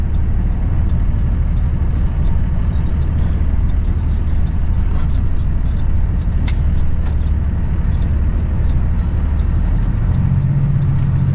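A semi truck rumbles steadily as it pulls into a fuel station, its low engine drone loud and constant throughout, with a slight rise in engine tone near the end.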